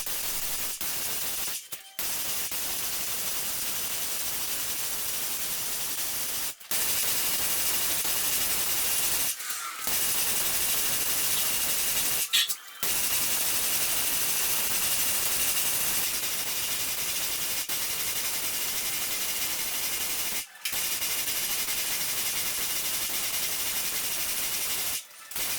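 Airless paint sprayer coating the ceilings of an old 1980s one-bedroom condo, a continuous loud hiss broken by several abrupt short pauses as the trigger is released.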